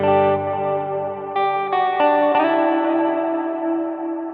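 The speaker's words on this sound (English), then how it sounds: "let's put our reverb and our delay back on" Electric guitar played through a Helix amp modeler with reverb and delay, a few sustained chords struck in sequence, each ringing out with echoing repeats and a long wash of tail.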